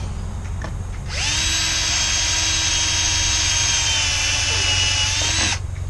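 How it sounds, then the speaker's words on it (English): A power drill whines steadily for several seconds at close range, its motor pitch holding constant before it cuts off. "I'm drilling kind of toward myself."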